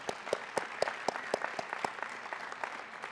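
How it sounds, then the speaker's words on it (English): Applause at a community college athletics hall of fame ceremony, a smaller group clapping with a few distinct rhythmic claps standing out close by, fairly quiet and steady. "Let's give everybody a hand of applause for that."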